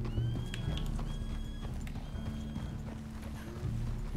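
A horse ridden in Red Dead Redemption 2 trots with a steady clip-clop of hooves, close and continuous, along with an occasional snort or whinny and no talking.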